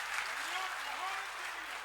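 Audience applause at a Hindi comedy poetry show rattles on evenly at a moderate level, mixed with a voice talking over it.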